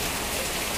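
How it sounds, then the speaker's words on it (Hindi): Heavy rain pours down in a dense, steady hiss that fills the whole short stretch, loud and close, with no voices over it. "ओ भाई क्या खतरनाक बारिश आ रही है"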